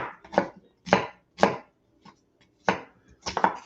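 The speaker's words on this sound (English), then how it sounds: "I'm going to just chop this little onion up roughly" A small onion chopped roughly with a knife on a board, six crisp irregular thwacks close up, some in quick pairs, with silence between.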